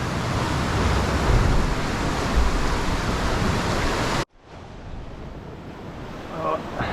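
Sea waves washing over coastal rocks on a rocky east-coast shore during rock fishing, a loud continuous rushing wash that cuts off abruptly partway through, then returns as a softer surf roar.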